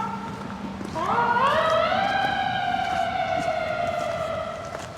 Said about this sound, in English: Sounds like we have an ambulance.